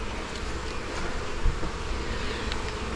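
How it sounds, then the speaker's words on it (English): Honeybees buzz in a dense, steady hum at the entrance of a hive during a first inspection, close and continuous, with no voices. "any bees that's still in there, they'll crawl up into the entrance"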